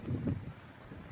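Strong wind buffets a microphone at sunset on the Transfăgărășan mountain road, a dense low rumble that swells loudest at the start and then keeps roaring steadily without a break.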